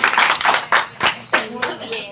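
An audience at a church gathering claps together in a burst of sharp, rapid hand claps that come close and loud, with a voice speaking over the applause.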